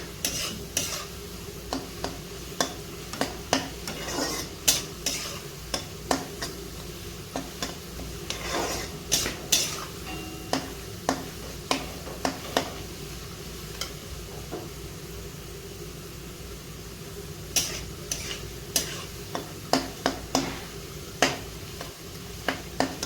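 Potatoes for Bengali aloo bhaja frying in oil in a pan, with a steady sizzle under repeated scraping, clinking stirring strokes of a spatula against the metal pan; no talking.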